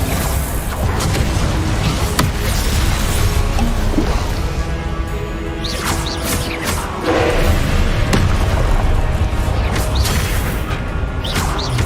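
Confringo blasting-spell explosions from Hogwarts Legacy come as loud, dense booms and crashing impacts, continuous and full over the whole stretch with whooshes mixed in.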